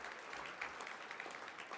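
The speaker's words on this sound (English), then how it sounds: "Big round of applause for all the staff, the volunteers," A crowd applauds steadily at a business hall of fame event, many hands clapping together at a fairly distant, even level without a break.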